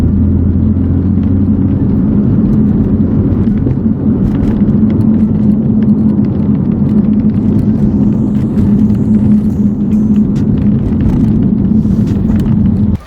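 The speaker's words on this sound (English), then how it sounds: "this wheel and tire setup just produces so much road noise inside the cabin." Steady, loud low-frequency tire and road roar fills the cabin of a BMW F80 M3 on the move, a constant droning rumble with no speech over it.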